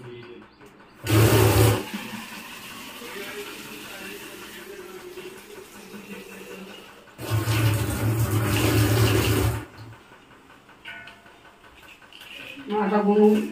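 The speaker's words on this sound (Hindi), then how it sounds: "थोड़ा नल से पानी भरती हूँ" Water runs from a kitchen tap into a vessel in two bursts, a short one and then a longer fill, each close and loud, while someone cooks a Pahadi breakfast with fenugreek.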